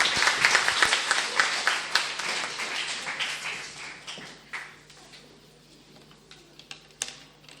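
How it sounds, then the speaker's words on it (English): Applause for a panelist at a panel discussion, starting full and close, then thinning out over several seconds into a few scattered claps. "Round of applause,"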